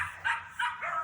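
Distant dogs barking outdoors, a few short bursts repeating at an uneven pace behind steady faint background noise, with no talking.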